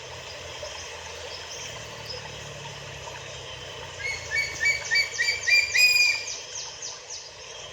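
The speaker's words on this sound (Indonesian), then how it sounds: "Ini burung elang." Eagle calls ring out over a steady background hiss, a burst of sharp, high chirping notes in the second half, fairly close.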